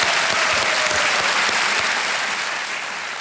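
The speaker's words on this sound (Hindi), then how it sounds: "एक बार फिर तालियों के साथ इनका स्वागत।" Sustained studio audience applause welcoming actor Emraan Hashmi on a televised quiz show, a dense, steady wash of clapping that holds loud throughout and eases slightly toward the end.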